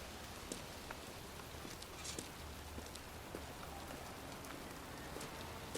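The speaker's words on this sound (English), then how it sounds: "It's cold. It's raining." Steady rain patters on a hard surface in a video game, with scattered louder drops and a low, constant wash underneath; no voices.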